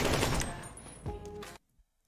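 Gunfire in the online game Ragnarok Online, a quick burst of rapid shots close up for about a second and a half, then abruptly silent apart from one faint tap.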